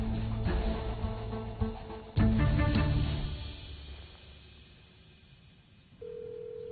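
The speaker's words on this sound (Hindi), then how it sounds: "फोन बज रहा है" A mobile phone rings with a melodic electronic tone that fades, then a steady single tone sounds near the end.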